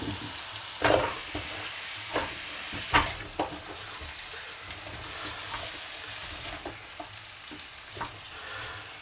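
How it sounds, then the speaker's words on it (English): Apple slices fry in melted butter in a pan, a steady soft sizzle broken by a few louder scraping stirs, heard up close with no talking. "we're going to add our slices to the butter"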